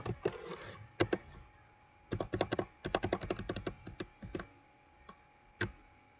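Commands are typed on a computer keyboard in quick, irregular bursts of close key taps, with short pauses and a few heavier single strokes.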